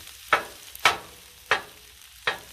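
Shrimp fried rice with vegetables cooking on a Blackstone griddle, with four sharp scraping stirs of a spatula at regular intervals over a low steady sizzle, close and fairly quiet.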